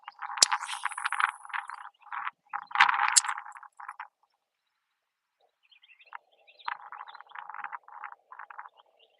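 Frogs croaking at a fishing pond, bursts of rapid rattling calls up close, a pause of near silence, then another run of croaks, with no talking.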